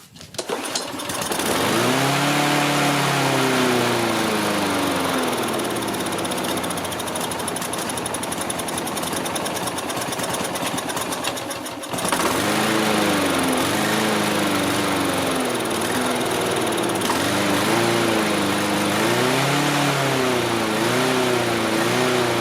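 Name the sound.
lawn mower engine running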